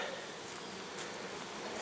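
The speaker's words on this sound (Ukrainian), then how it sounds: "А на пасіці ранок бджола працює" A dense, steady drone of many bees buzzing together at an apiary in the morning, continuous and close, with no speech.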